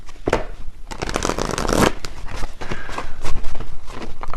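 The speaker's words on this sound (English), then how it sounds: "let me actually get a few more tarot for this part" Tarot deck being shuffled by hand, a close, loud run of crisp riffling and flapping card bursts lasting several seconds, with no talking.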